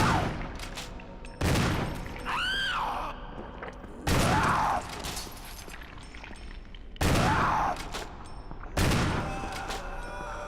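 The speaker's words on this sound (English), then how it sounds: "Oh, I have to shoot her off the edge." Gunshots in the video game Resident Evil, four loud separate blasts spaced a couple of seconds apart, each with a ringing tail, and a rising, falling creature cry between the first two.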